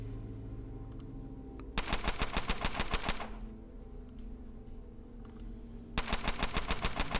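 Rapid automatic gunfire from a weapon in the video game Underrail, two loud clattering bursts of quick regular shots, each lasting about one to one and a half seconds, separated by a quieter stretch.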